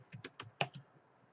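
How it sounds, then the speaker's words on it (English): Short burst of typing on a computer keyboard, five or six quick close-up key clicks with one sharper tap, then quiet. "It would help if I was typing into the thing."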